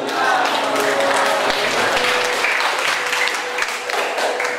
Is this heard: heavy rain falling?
no